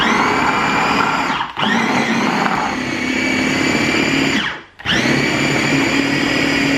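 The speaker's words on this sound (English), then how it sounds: "It chops onions and things, peppers and that, great." A small electric mini chopper whirs loudly and steadily in two long bursts, each cut by a brief pause, with a chopping rattle of vegetables inside the drone.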